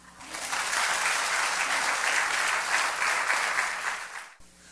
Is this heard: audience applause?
yes